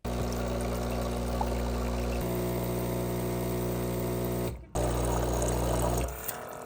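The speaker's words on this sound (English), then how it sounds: "Just pour everything in the water tank." Descaling solution pours steadily into the water tank of a Breville Barista Touch Impress espresso machine, a continuous close splashing stream with a brief break near the end, heard alone with no talk.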